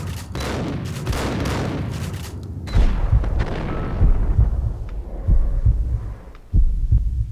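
Max Payne gameplay gunfire: dense, loud shooting and noise at first, then a series of heavy, thudding shots at irregular intervals over a low rumbling game background.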